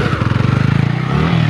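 A new motorcycle, not yet fitted with a number plate, revs loudly up close with a fast, throbbing engine pulse that holds steady and then shifts to a smoother, higher drone near the end.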